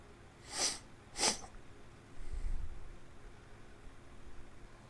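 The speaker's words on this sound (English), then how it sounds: "Sorry about sniffling." Two sharp nasal sniffs in quick succession from a person sick with a cold indoors, close and fairly loud, followed by a low rumbling background noise.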